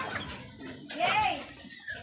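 Hens clucking close by in a backyard, a short rising and falling cluck over a busy background with voices talking nearby.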